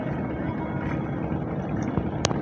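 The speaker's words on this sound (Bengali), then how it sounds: "এই যে দেখেন সদরঘাটের যত লঞ্চ এইখান থেকে ছাড়া হয়" Passenger launches at the Sadarghat river terminal in Dhaka, heard as a steady, dense rumble of engines and water across the whole stretch, with a brief sharp click near the end.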